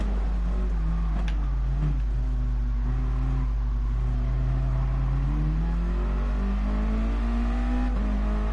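A Super GT race car engine in the video game GT Sport drones and revs in sustained rising and falling tones, loud and continuous, with no talking.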